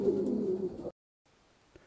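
A racing pigeon in a loft gives one short, fairly loud coo, followed by near silence and a faint tap.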